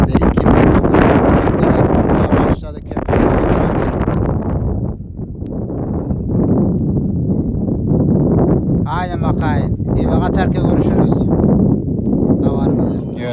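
Strong wind buffeting the microphone in loud, continuous roaring gusts, with faint voices barely audible underneath.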